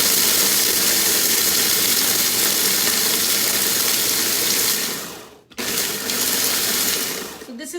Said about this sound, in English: So this is dry grinding.